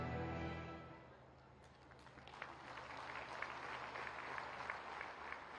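A crowd at an outdoor public event in Baghpat, where development projects are launched, breaks into applause. The clapping is faint and distant, rising after a fading tone and continuing steadily under a background hum.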